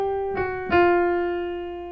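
Jazz piano plays the second part of a blues lick: two close struck notes or chords, the second louder, then a long sustained ring that slowly fades, with no talking.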